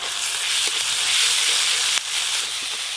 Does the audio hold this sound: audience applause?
no